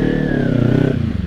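A Kawasaki Ninja 300 motorcycle engine hums at close range with a steady mid-pitched drone, while a faint whine slides slowly downward in pitch and then eases off near the end of the brief stretch.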